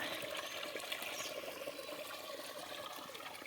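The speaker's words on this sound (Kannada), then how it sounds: "ಒಳ್ಳೆ ಸ್ಪೀಡಲ್ಲಿ ಐತೆ ನೀರು ಒಂದು ಎರಡು ನಿಮಿಷಗಳಿಗೆ ಫುಲ್ ತುಂಬ ಹೋಯ್ತದೆ" Water flows steadily into a pit on a farm, a soft, continuous rushing and gurgling, fairly faint and unbroken throughout, with no voices.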